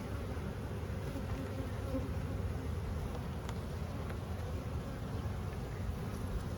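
Honeybees buzz steadily inside an opened, normal-looking beehive: a dense, continuous hum of many insects at close range, with no talking.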